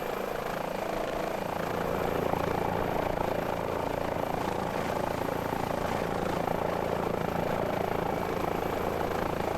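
An Airbus H145 helicopter flies on a firefighting mission over Yellowstone in Microsoft Flight Simulator, giving a steady, unbroken rotor and turbine drone at even loudness.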